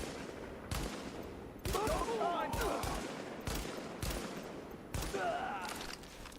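Marksman rifle shots in The Division, a string of sharp single cracks spaced about a second apart with a ringing tail, under a player's intermittent talk.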